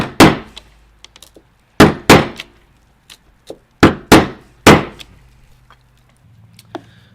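Metal punching on a Jeep Wrangler JL hood: sharp, loud single strikes ring out in irregular groups of two or three, separated by quiet pauses, close and with no talking.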